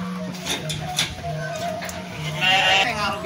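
Sheep bleating as they are unloaded from a truck at a livestock delivery of weaned breeding stock in Rancah, Ciamis, with several overlapping bleats, some near and some farther off, amid background noise.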